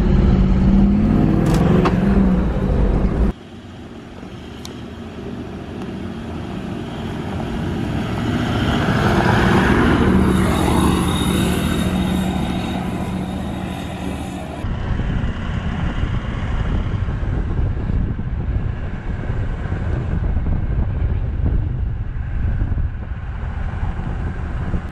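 A car travelling along a bush track in the Hamlin Bay area near Busselton, a loud continuous rumble of engine and tyres with wind buffeting, rising and falling in intensity over the drive, with no speech.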